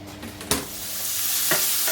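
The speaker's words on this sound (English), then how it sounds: "I'm just going to cook this bacon" Bacon frying in a pan gives a close, steady sizzle that slowly builds, broken by a couple of sharp clicks or spatters.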